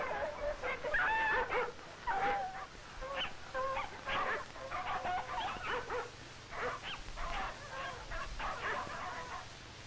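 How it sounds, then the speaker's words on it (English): Several dogs of a team hauling a sled through soft snow bark, yip and whimper in bursts, close and fairly loud, over a low rumbling background. "the dogs have difficulty hauling the sled"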